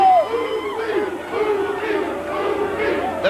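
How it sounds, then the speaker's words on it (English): A mixed wrestling crowd at an NWA TNA event in 2003, during a Jerry Lynn versus Juventud Guerrera match, roars and yells steadily, with rising shouts and chanted cries carrying over the arena din. "The crowd, listen to this."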